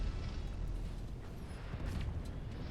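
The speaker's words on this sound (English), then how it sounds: "Azula with the with the BFT cannon, but he misses actually." A BFT cannon fires in a video game during a competitive esports match, producing a dense, loud, rumbling blast that fills the whole stretch without a break.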